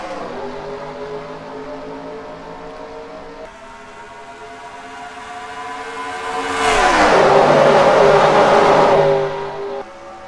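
Racing truck engines in a BP Truck Series video game race drone steadily with tonal harmonics, then swell into a loud, bright surge of revving around the field before easing back, no talk over it.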